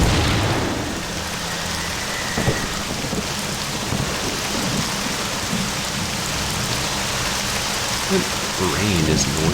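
Steady heavy rain pours throughout a horror video game, a constant loud hiss with occasional low rumbles like distant thunder beneath it.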